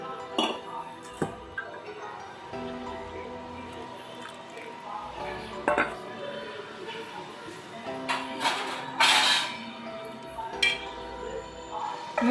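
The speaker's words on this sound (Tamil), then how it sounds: "மூடி வச்சிடலாம். அது நல்லா கொதிக்கட்டும்." Metal pots and a lid clink and clatter in scattered knocks while a ginger curry is covered to boil, with a person talking over the kitchen sounds.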